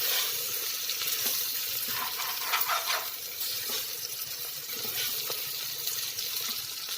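Water pours steadily into a pot of rice and sautéed onion for ghee rice, four glasses measured for two of rice, a continuous soft splashing hiss at moderate distance with no voices.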